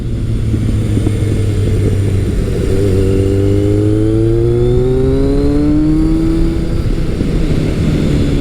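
A classic muscle motorcycle, a Kawasaki ZRX1200R or Suzuki GS1100L, roars loudly and close while being ridden, its engine tone sliding and rising steadily through the revs with continuous wind rush and no voices.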